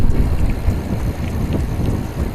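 Headwind buffeting a cyclist on a cycle route between Trenčianske Teplice and Brumov, a steady, loud low roar with gusty fluctuations and no talking.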